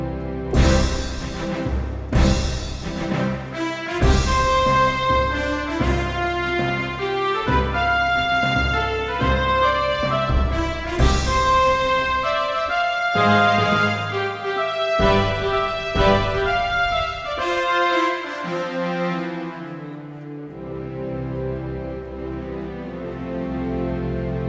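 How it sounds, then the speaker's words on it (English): A layered orchestral patch played on a Roland FA-08 keyboard workstation, with full sustained chords, strings and brass stacked together, rising and shifting loudly before settling into a softer final chord. "So this is a layered orchestral sound."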